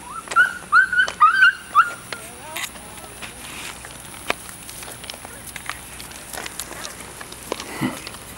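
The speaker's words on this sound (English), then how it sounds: "I love the puppies, Daddy" Puppies whimper and yip in a quick burst of high, rising squeals near the start, then quieter scuffling and occasional faint yelps follow, with people talking nearby.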